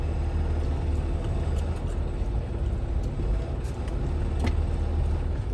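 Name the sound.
semi truck moving to slide the trailer tandems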